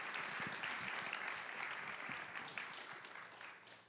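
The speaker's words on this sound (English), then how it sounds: "you give them a round of applause" An audience claps in a sustained round of applause as panelists join the stage at a humanitarian response forum. The clapping is dense and steady, then tapers slightly near the end.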